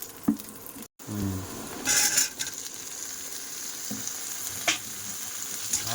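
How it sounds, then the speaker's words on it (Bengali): Food sizzles and crackles steadily in hot oil, with a few sharper pops and a brief stir, no talking; likely freshly caught catla fish. "এটা কিন্তু ভাজাটা খুব সুন্দর হচ্ছে"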